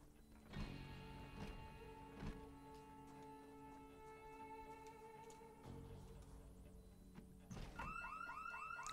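A house alarm goes off inside a video game, a steady electronic wail with repeating pulsing tones and a few sharp clicks, fairly faint and continuous with no talk over it.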